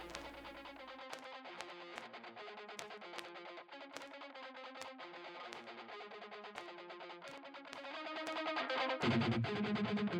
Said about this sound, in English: You hear the vinyl plugin kind of like come back.